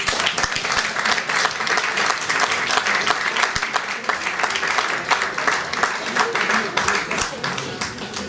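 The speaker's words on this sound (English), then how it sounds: "You get a huge round of applause." A live comedy-magic audience in Edinburgh breaks into a big round of applause, dense and sustained clapping with scattered cheers filling the room for the whole stretch.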